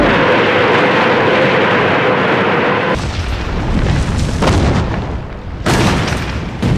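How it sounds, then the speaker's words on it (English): A Soviet Katyusha rocket launcher barrage, known as Stalin's organs, pounding enemy lines in World War II: loud, continuous roaring rumble and booming blasts with abrupt shifts, with no talking. "the Soviets obliterate the enemy's lines, pounding them with the rocket launchers they call Stalin's organs"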